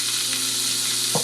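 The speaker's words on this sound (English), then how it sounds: "My noodles and I'm gonna fry it" Udon noodles frying briefly in a pan with oil, a steady close sizzle and hiss throughout with a short stirring scrape near the end.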